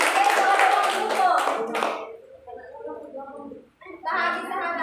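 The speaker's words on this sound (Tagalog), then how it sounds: "Palakpakan ang unang grupo." Children in a class group activity clap for the first group, a loud burst of quick hand claps lasting about two seconds, then fading into children's voices talking and chattering.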